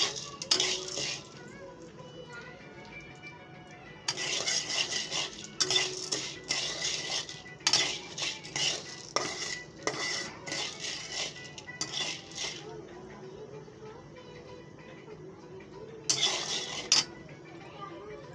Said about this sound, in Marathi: मीडियम गॅसवर आपल्याला हलवत राहायचं याला थोडंसं